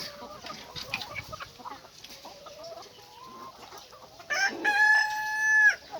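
A mixed flock of chickens and young pullets clucks and chatters in a busy run, the calls overlapping near and far, before a rooster breaks in with a loud, drawn-out crow at the end.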